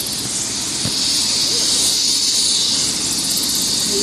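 A helicopter landing on the BR-101 highway at a motorcycle accident scene gives a loud, steady rotor and turbine roar that fills the whole stretch, with faint voices beneath.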